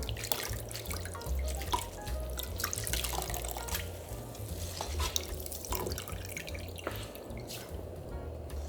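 Tap water runs and splashes in a sink while green laver seaweed is rinsed by hand, a continuous close trickle with scattered drips, sloshes and soft handling noises.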